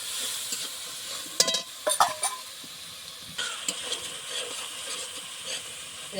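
Spices frying in a pan with banana stems and jackfruit seeds, a soft steady sizzle broken by a few sharp clattering stirs and scrapes, close and moderately quiet.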